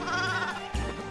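Sheep bleating in the physics puzzle video game Boom Blox, a sustained nasal cartoon bleat followed by a second lower bleat, loud and clear with no talk over it.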